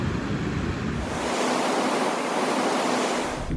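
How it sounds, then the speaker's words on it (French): Ocean surf crashing and washing continuously along a shoreline near Pointe-Noire, Congo; a loud, steady roar of breaking waves with wind-like hiss and no talk. "Cet océan qui révèle toute sa puissance."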